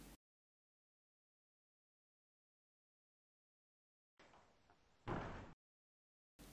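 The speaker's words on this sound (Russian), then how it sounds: "Человек открыл и закрыл дверь." A door opens and closes in a quiet room: a scraping movement followed by a louder, sharper closing thud, with silence before and after.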